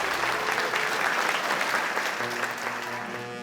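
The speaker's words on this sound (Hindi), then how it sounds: "हमारे जज साहब का जोरदार तालियों से स्वागत करें।" Audience applause welcoming a guest judge at a staged event in a film, steady dense clapping from a crowd throughout, with a faint tone emerging near the end.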